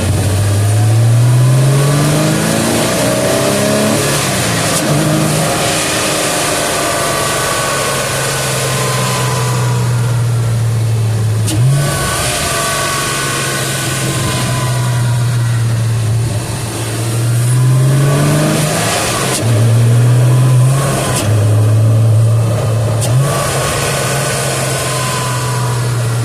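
Porsche Boxster S flat-six engine revving hard and loud up close, with repeated rising pulls that fall back to a throaty idle between blips, continuing without a break.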